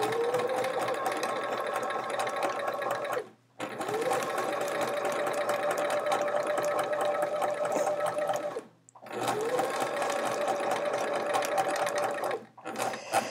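A sewing machine sews half-chevron quilt pieces in three long continuous runs separated by short pauses, its steady stitching carrying a rhythmic chunking from a needle due for change, loud and close with no talking.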